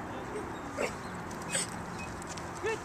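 A dog gives soft whimpers and small yips, faint against low room noise, with brief quiet sounds between them and no clear talk.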